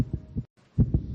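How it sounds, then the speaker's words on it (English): Quick, deep heartbeat thumps in close succession, muffled and low, with a brief pause before two more rapid beats. "This is the sound of a racing heart."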